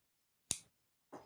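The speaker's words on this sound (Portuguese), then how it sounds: "Agora, eu vou cortar esse fio." Scissors snip through crochet yarn with a single sharp close cut, followed a moment later by a softer second snip in an otherwise quiet room.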